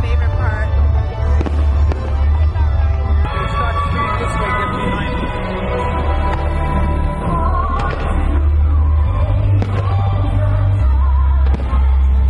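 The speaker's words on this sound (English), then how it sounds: "We can watch the fireworks." Fireworks at Epcot, a dense series of deep booms and crackling bursts at an outdoor theme park show, loud and continuous, with people talking and cheering in the crowd nearby.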